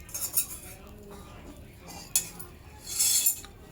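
Vada pav potato filling with plenty of coriander is mixed in a bowl, giving faint, scattered clinks and scrapes with a few sharper knocks near the start, middle and end. No one speaks.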